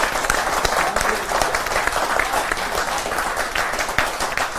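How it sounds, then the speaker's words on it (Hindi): Audience at an Independence Day poetry gathering claps to welcome a poet, loud, close and continuous clapping from a crowd, dense and steady throughout. "एक बार जोरदार तालियां बजाकर आप उन्हें आमंत्रित की।"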